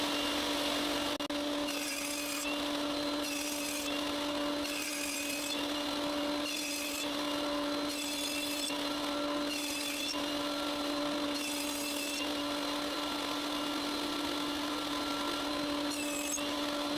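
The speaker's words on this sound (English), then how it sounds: "Now it's time to cut a recess in the chessboard that I can attach the outer frame to." A power tool cuts a 1 cm wide, 1 cm deep recessed groove into a wooden chessboard, with repeated passes of high cutting bursts over a steady motor hum, fairly close and continuous without talk.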